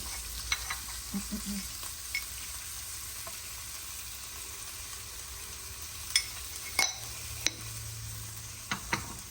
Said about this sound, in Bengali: এটাকে একটু ভেজে নিয়ে আগে দাঁড়ান। কর্নটা ভাজা হয়ে গেছে